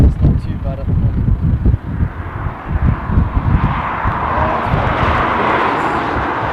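A Ryanair airliner on final approach into Dublin airport, its engine roar building into a broad, steady rumble from a distance, heard outdoors amid wind buffeting and under people talking.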